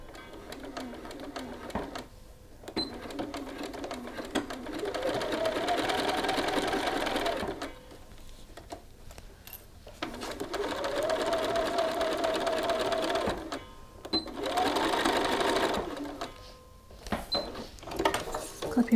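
Domestic sewing machine stitching a shirt cuff runs in three sustained bursts of steady, close whirring, separated by short pauses filled with small handling clicks and rustles; no talk over the stitching.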